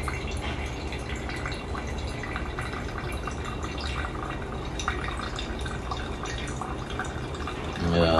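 Hot water is poured steadily over ground coffee for extraction in a pour-over brew, giving a soft, continuous trickle and splash that runs quietly for several seconds before a slightly louder finish.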